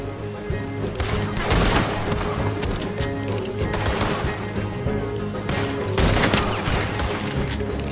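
Sustained gunfire battle in the video game Red Dead Redemption 2, dense overlapping shots and volleys rolling continuously over about eight seconds, with heavier bursts near the start and end, no voices.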